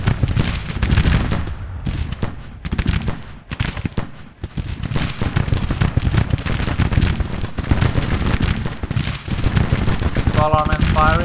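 Dense, crackling musket fire from massed soldiers in a Confederacy campaign battle game, continuous overlapping shots rattling along the line, with a voice talking over the din.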